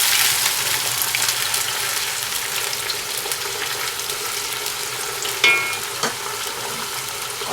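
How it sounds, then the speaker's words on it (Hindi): Onion, ginger-garlic and whole cumin frying in a pan for a Pakistani chicken and capsicum dish, a steady close sizzle with a couple of sharp clinks near the end. "ये जब आपका प्याज और अदरक लहसुन फ्राई हो रहे हो, गोल्डन करना है हमने"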